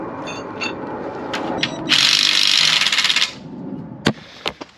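A power tool cutting a stuck, wedged cam bolt on a Jeep Wrangler TJ rear axle: scattered metallic taps, then a loud, harsh, high grinding burst of about a second and a half, followed by a few sharp clanks.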